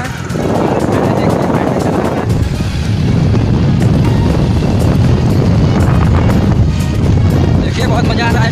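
Strong wind buffets the microphone while riding a bike on a poor, waterlogged road, a loud low rumbling roar that rises and dips, with a voice talking over it.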